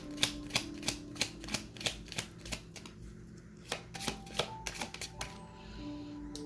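Tarot cards being shuffled and pulled, a quick, quiet series of crisp taps and flicks in a steady rhythm over a faint background hum.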